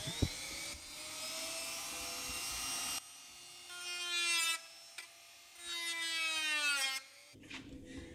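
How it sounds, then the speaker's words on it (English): High-pitched whine of a small rotary power tool cutting plastic as a car's radiator fan shroud is trimmed, in several sustained bursts that rise and drop in pitch, close and loud, with no talking. "Ended up having to trim out some of the radiator shroud here."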